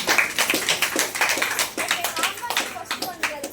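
An audience claps at a photon therapy session, a busy patter of hand claps running throughout, close and fairly loud, with voices talking over the applause.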